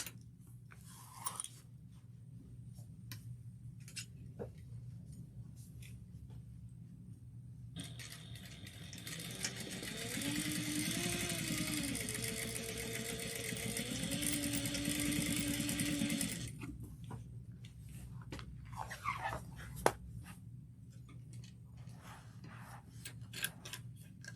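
A sewing machine stitches fabric, sewing quarter-inch seams with backstitching on a baby sling. It runs as a steady, close whirring burst of about eight seconds in the middle, with quiet handling noises before and after.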